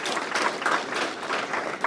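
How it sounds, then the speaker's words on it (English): A brief burst of audience applause at a sales training event honoring a top performer, dense clapping from many people heard fairly close and loud throughout. "let's give him a round of applause there"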